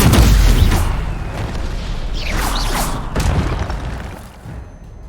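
An Incendio fire spell in Hogwarts Legacy goes off as a loud booming blast. Whooshing bursts follow, then the sound fades out over a few seconds.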